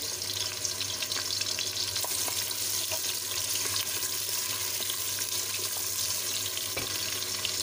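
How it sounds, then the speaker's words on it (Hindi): Chopped onions frying in hot oil for daal mash, a loud, steady crackling sizzle close up that runs unbroken, with scattered small pops and scrapes. "ऑयल हमारा गर्म हो गया जी प्याज ऐड कर लेते हैं बिस्मिल्लाह प्याज को फ्राई कर लेंगे पहले"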